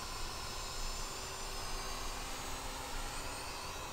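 A Hubsan H502C quadcopter drone climbs in flight, its steady high-pitched motor whine and rotor hiss holding constant and close with no talking.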